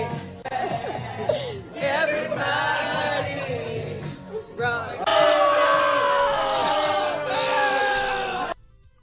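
A crowd of people boos and jeers, a loud sustained mass of voices with shouts and some laughter mixed in, swelling louder midway before cutting off.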